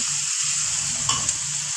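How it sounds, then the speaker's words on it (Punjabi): Onion tadka for eggplant bharta fries in a pan, giving a steady, close sizzle with a couple of light stirring clicks. No voices. "ਤੇ ਇਧਰ ਮੈਂ ਸਾਈਡ ਤੇ ਤੜਕਾ"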